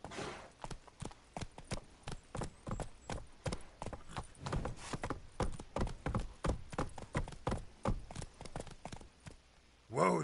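Roach the horse gallops in The Witcher 3: Wild Hunt, a fast, rhythmic run of close hoofbeats on hard ground lasting about ten seconds, with speech and a snort or whinny mixed in.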